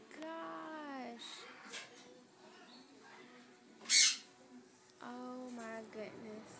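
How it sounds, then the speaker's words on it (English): A large hyacinth macaw lets out a single loud, harsh squawk in the middle of the clip, surrounded by softer sounds from people talking nearby. "What kind of bird is this? Hyacinth macaw."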